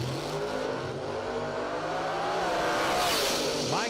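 Drag racing cars launch at a Radial Fest event, their engines rising from a steady rumble to a loud, climbing roar as they accelerate away down the strip.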